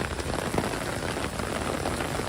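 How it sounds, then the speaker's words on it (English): Steady rain falls on a New York City street, a dense, even hiss of drops hitting pavement and surfaces close around, unbroken and fairly loud throughout with no voices. "You can really notice the rain is picking up."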